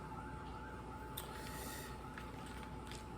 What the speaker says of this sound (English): Ambulance rolling by our police.